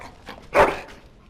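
A single sharp dog bark in the video game Dragon Age Origins, loud and close, with fainter yips around it.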